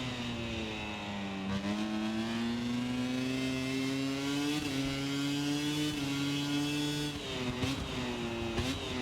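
A motorcycle engine in MotoGP 25 drones at a sustained high revving pitch, rising gradually with brief dips at gear changes, steady and continuous.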